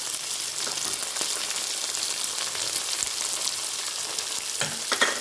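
Capsicum, carrot and green peas fry in a pan with a continuous close sizzle, joined by occasional stirring scrapes and a louder clatter near the end, with no voices.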